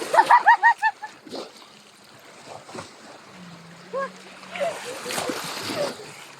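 Seawater splashes and sloshes against a small boat on open sea, broken and irregular, with several people talking and exclaiming over it throughout.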